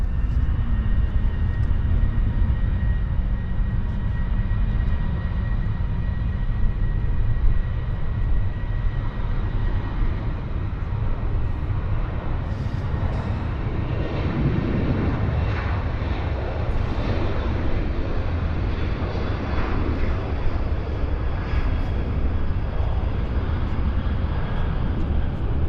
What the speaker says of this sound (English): there's our Air Canada Montreal service, taxiing out nicely